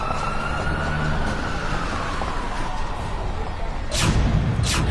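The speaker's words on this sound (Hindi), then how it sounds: "एम्बुलेंस बुलाई गई" A wailing emergency siren sweeps steadily over a dense roar of traffic, with a louder rumble swelling near the end.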